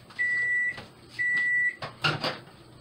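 Two steady electronic beep tones from a microwave, each about half a second long, followed by a door clunking open.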